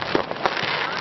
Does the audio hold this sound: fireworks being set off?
yes